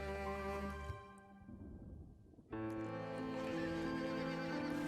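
Black carriage horses in the video game Dracula: Origin whinny loudly twice, long shrill neighs separated by a short pause with faint hoof and harness noise between, set against a musical background.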